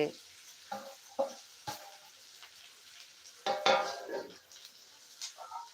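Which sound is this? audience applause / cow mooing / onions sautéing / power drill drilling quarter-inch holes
onions sautéing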